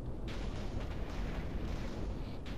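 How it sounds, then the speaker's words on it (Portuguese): Nuclear bomb explosion in the Minecraft video game, a dense continuous roar of rumbling blasts with crackling bursts, loud and sustained throughout with no talking. "É, ainda tá explodindo."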